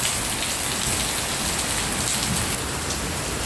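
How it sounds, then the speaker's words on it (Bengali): Heavy rain pours down on surfaces outdoors under a darkened sky, a loud, unbroken wash of hissing and pattering drops with no voices. "এই যে দেখেন কত সুন্দর বৃষ্টি হইতেছে"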